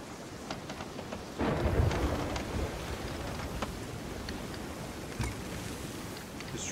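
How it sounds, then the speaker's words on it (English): Thunder rolls and rain falls during a storm at sea in the pirate game Sea of Thieves, a steady wash of rain with a low rumble swelling early and scattered sharp drops and knocks. "Just trying to get through the storm, really."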